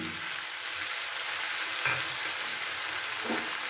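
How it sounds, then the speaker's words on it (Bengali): Sugar and jaggery are stirred into an olive pickle in a pan, giving a steady close hiss and sizzle with soft scraping strokes now and then, and no talk. "গুড়টা দেওয়ার পরে খুব ভালো করে কিন্তু আমি মিশিয়ে নিচ্ছি"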